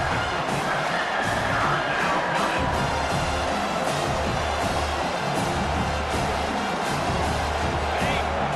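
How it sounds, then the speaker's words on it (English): A stadium crowd in a college football video game, Alabama at South Carolina, roars and cheers on third down, a dense, continuous wash of noise with rising whoops, heard alone without talk. "Decibels rising as the crowd gets behind this defense on third down."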